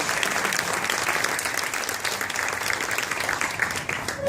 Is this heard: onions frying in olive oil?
no